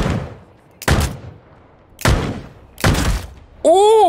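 Gunfire from a blue AK rifle in the BloodHunt video game: four separate loud, sharp shots about a second apart, each with a short decaying tail, ending in a bright electronic tone.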